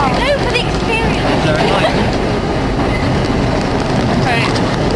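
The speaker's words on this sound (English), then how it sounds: "We are on the subway." A New York subway train rides along the tracks with loud, continuous rumbling and rattling, close and steady, while faint voices sit beneath the din.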